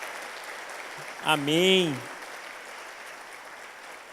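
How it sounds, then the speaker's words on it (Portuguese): A church congregation applauds, a broad wash of clapping running under a single spoken word from a voice in the middle. "Se você crê nisso, dê um aplauso ao Senhor."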